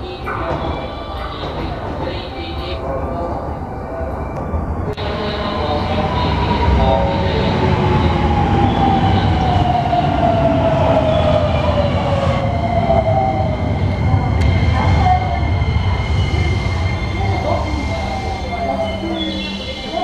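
A JR West train pulls into the platform at Kainan station, rumbling steadily with a long descending wheel squeal as it slows. Platform announcements can be heard under the train noise.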